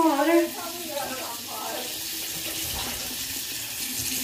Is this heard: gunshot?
no